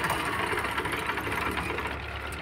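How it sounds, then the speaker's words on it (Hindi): A 1999 TAFE 25 DI tractor runs on a farm, a loud, steady diesel rumble with a faint knocking pulse, close by and unbroken, with no voices. "और ये ट्रैक्टर जो बहुत ही डिमांड में रहता है टैफे 25 TI।"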